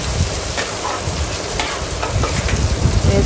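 Cumin and mustard seeds crackle in hot oil as cooked dal for gongura pappu is added and stirred in, a dense steady sizzle with spoon scrapes, loud and close.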